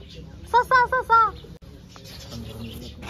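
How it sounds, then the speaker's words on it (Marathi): Several lovebirds give short chirping calls in a quick burst of four or five notes, close by, followed by faint background noise and a single sharp click. "केवढे सारे लव बर्ड्स आहेत"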